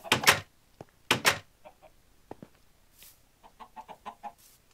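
Chickens in a Minecraft chicken house cluck in scattered bursts, two louder close calls followed by softer, quicker clucks and a few faint clicks.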